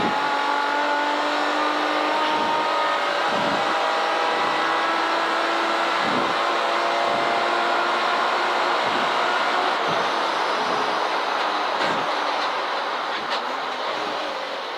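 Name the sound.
estate car racing around Castle Combe circuit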